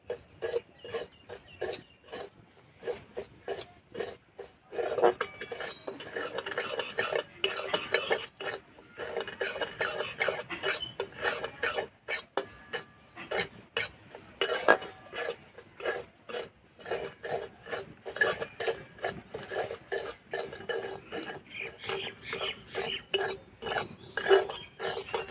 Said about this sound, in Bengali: হালকা আঁচে একটু সময় ধরে ভেজে নিতে হবে